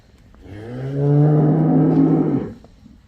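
A single long, loud moo from a freshly calved cow, rising and sustained for about two seconds, close by, with no talking.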